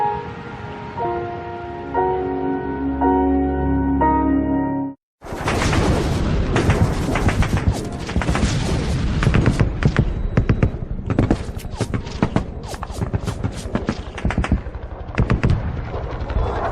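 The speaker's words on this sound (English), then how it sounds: "The ground never stops shaking. The mortars and artillery are constant." Mortar and artillery explosions during the 1968 Tet Offensive fighting at Hill 861A in Vietnam. A soft musical passage gives way after a brief silence to a loud, relentless barrage of overlapping blasts and sharp gunfire-like cracks that runs to the end.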